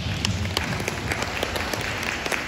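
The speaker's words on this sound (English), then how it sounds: "We all deserve a round of applause." A round of applause from the audience at a senior high school curriculum training session, with continuous crowd clapping and scattered sharper claps standing out, steady throughout without anyone talking.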